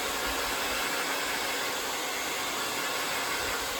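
A hair dryer blows on the roots of hair at less than full power, a steady close whooshing roar with no voices.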